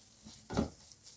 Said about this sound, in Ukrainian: Смажу, мішаю.